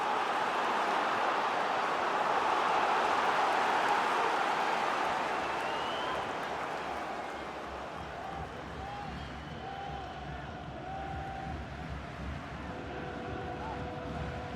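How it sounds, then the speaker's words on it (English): A FIFA 22 video game stadium crowd keeps up a loud, steady roar that swells early and then settles slightly, while a commentator talks over it throughout. "The crowd are certainly playing their part."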